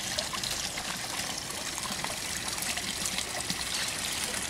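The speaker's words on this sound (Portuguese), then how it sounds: "Tá vendo o barulhinho da água?" Water trickles steadily into a small garden pond, a continuous soft splashing and bubbling heard alone at close range.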